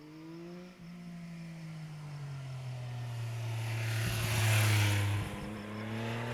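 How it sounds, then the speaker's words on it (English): A 2024 Yamaha XSR900 GP's airbox intake gives a deep, smooth droning hum that swells as the bike accelerates, heard from the rider's position with wind rush building over it. "noise from the airbox is so lovely"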